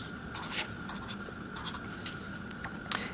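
A pen scratches steadily on paper while numbers are written down, a close, continuous rasp with small strokes and ticks over a constant background hum.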